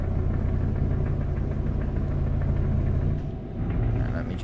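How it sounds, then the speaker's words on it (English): Heavy truck engine in the Euro Truck Simulator 2 driving game, a steady, rumbling low drone that holds loud and even throughout, with a brief dip in revs near the end as if shifting gear before it picks up again. "I could listen to the engine on this truck all day though, guys"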